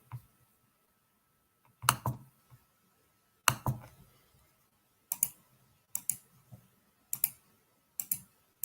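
Sharp, isolated computer mouse clicks, about seven or eight spread unevenly over several seconds, close and crisp against a quiet room with no talking.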